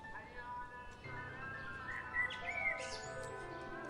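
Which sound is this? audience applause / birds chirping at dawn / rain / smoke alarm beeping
birds chirping at dawn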